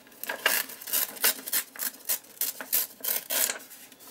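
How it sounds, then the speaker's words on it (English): Paper tears by hand in a quick series of short, raspy rips, about a dozen bursts in a loose rhythm, close and crisp. "the sound of me tearing paper"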